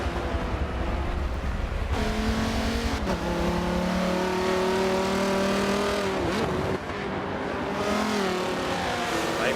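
Audi and Porsche GT race cars power down a back straight under a bridge and downhill during an endurance race, engines droning loudly and climbing in pitch through the gears, with a brief shift or lift partway through.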